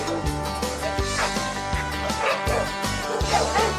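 A pit bull barks and yips in repeated sharp bursts, close and fairly loud over a steady tonal backdrop, with a few whimpering notes between the barks.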